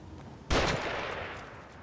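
Gunfire in the horror video game The Evil Within: a single loud, close shot with a long, fading echoing tail, alone without talk.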